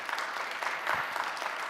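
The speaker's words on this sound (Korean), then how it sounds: "우리 박수 한번 치겠습니다." A church youth congregation clapping together, a soft, fairly distant patter of many hands held at an even level for under two seconds, with a murmur of voices underneath.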